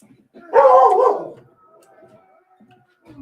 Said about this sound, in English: This coyote is right outside, so now the dog's getting upset.